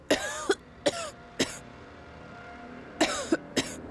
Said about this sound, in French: j'ai juste une petite toux